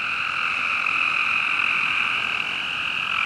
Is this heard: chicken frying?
no